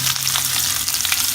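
Onions fry in a pan for tokwa't baboy, a loud close sizzle with bursts of crackle and stirring.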